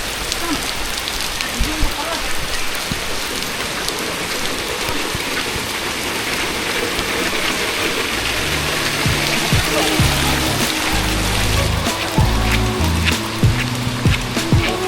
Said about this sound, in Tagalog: We are going to enjoy the rain.